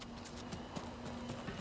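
Horse hooves clip-clopping in the Ghost of Tsushima video game, a steady rhythmic patter of hoof falls over a constant background hum, moderately quiet.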